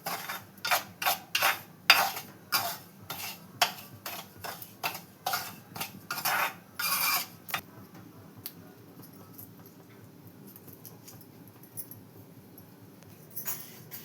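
A utensil stirs food roasting in a pan until golden, giving rapid, close scraping clicks for about seven seconds. The clicks then fall to near quiet, and one last brief scrape comes at the end.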